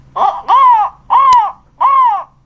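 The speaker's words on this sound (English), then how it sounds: "Wait, what sounds do crows make?" Three loud, close crow caws, each drawn out and harsh, separated by short pauses, with no other sounds.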